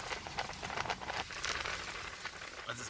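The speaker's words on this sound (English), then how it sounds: "Here comes the rain now." Wind-driven rain sweeping in during a severe thunderstorm, a steady dense hiss of drops with gusty rushing, close and continuous with no talk.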